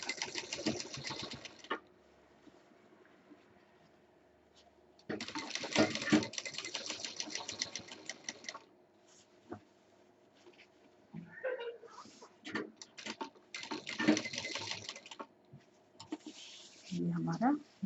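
An electric sewing machine stitches a fabric mixer-grinder cover in short, rapid bursts, three or four runs separated by pauses. Someone talks quietly in between, and some faint handling noises are heard.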